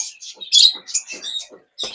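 Fischer's and powder blue lovebird breeding pairs chirping at a bird farm, a quick series of high, close, sharp tweets with short gaps between them.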